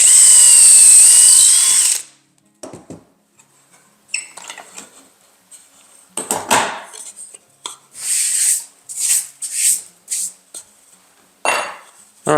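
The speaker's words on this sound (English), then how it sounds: "lock it down, drill the hole." A power drill runs briefly at the start drilling a dowel hole through a locked-down jig, then stops, followed by a string of clicks, rattles and clattering from tools being handled.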